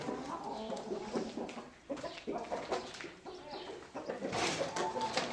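Hens clucking and cooing in a busy coop, a steady layer of overlapping fowl calls with scattered louder squawks, no talking.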